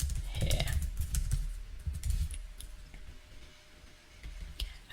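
Keys tapping on a computer keyboard while text is typed along a circular path in Adobe Illustrator, a moderately busy run of clicks with some low background rumble, no speech over it.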